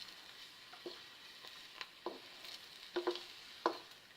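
Banana sweet cutlets shallow-frying in a little oil on a low flame, a soft, steady sizzle with faint pops and a few light utensil taps, quiet and without talk.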